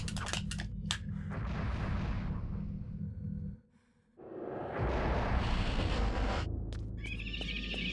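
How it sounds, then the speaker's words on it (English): In Eternal Darkness, an explosion booms out loud and rumbling, then drops into a brief near-silence before a second wave of blasts and crackling debris. A bright tone rises at the end. "Early explosion."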